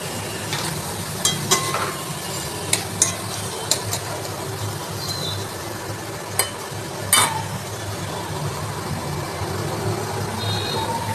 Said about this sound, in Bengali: কুচনো কাঁচা লঙ্কা দিয়ে পেঁয়াজ দিয়ে ভালো করে ভাজতে হবে